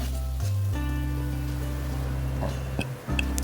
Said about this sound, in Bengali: এবার মশলাগুলো খুব ভালো করে কষিয়ে নিতে হবে